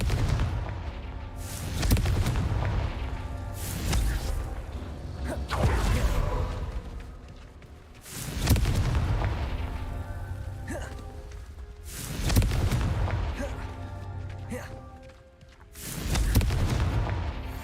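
Confringo fire spells blast in Hogwarts Legacy gameplay, about five heavy booms with whooshing tails landing every few seconds over a low background score.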